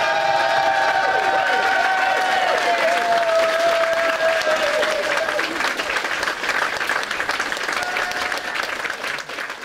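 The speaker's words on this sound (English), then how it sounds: "Can we have a round of applause for the inaugural Bugglebots champion," A large crowd applauds steadily and loudly at the Bugglebots 2018 robot combat tournament, with some cheering mixed in, sustained throughout with a faint musical tone in the background.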